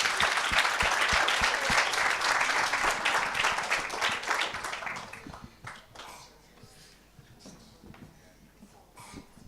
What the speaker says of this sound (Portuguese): uma salva de palmas para estes alunos que foram fantásticos